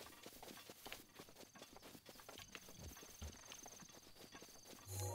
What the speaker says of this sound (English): Oh, there's a bunch of horses down there.